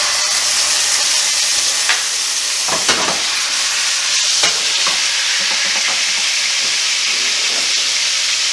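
Crushed garlic sizzles steadily in olive oil in a pan, a bright continuous frying hiss with a few scraping stirs, close and fairly loud, no voices.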